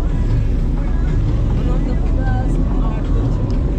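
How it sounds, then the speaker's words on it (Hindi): A motorbike rides a mountain road in Uttarakhand toward Kartik Swami via Gairsain and Karnaprayag, with a loud, steady roar of engine and wind buffeting and muffled voices underneath. "इस टाइम हम बाइक से आ गए।"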